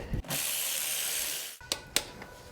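A torque wrench ratchets steadily on engine bolts during a 2004–2009 Toyota Prius engine rebuild, one long clicking run followed by a few sharp separate clicks nearby.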